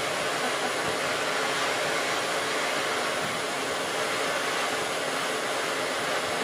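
A glassblowing torch flame roars steadily and loudly without a break, a constant broad rushing hiss heard alone while glass bulbs are worked.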